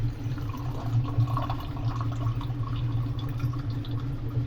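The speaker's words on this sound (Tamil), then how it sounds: "இந்த தண்ணியை ஊற்றிட்டு அடுத்து வேறு தண்ணியை நம்ம இதில் சேர்த்துக்கணும்" Water poured out of a container while soaking an ingredient in a kitchen, a steady close trickle and splash running continuously with no talk.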